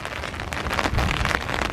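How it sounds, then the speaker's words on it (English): Steady rain patters on a foggy December morning along Top Hill Road in Iroquois Park, a dense continuous hiss of drops striking the ground and leaves close around, with no voices. "It's supposed to rain all day."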